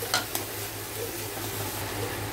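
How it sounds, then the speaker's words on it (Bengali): Chicken and chopped capsicum stirred with a spatula in a pan of hot oil, an even sizzle with a couple of quick scraping knocks at the start, close and steady, without speech. "ক্যাপসিকামটা অ্যাড করে দিলাম। দিয়ে ভালো করে নাড়াচাড়া করবো এভাবেই।"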